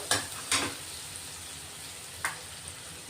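Garlic and onions frying in a pan, a quiet, even sizzle broken by three brief scraping stirs of a spoon.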